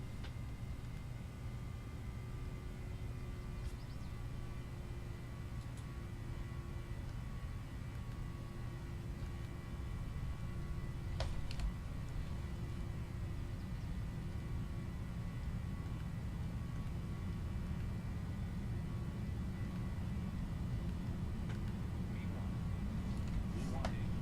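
Airliner engines spooled to full takeoff throttle in a flight simulator: a steady loud roar with tonal whine, constant for the whole stretch, with a few faint clicks over it.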